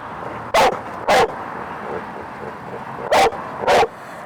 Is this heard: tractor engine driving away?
no